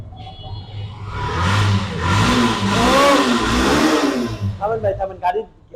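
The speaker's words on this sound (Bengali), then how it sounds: "গাড়ি এটা সাউন্ড উঠলে পরান ঠান্ডা হয়ে যাবে" A Suzuki SF/Fazer V2 Fi motorcycle engine revving up and down nearby, rising and falling mid-pitched roars that fade into choppy idling, with someone talking over it.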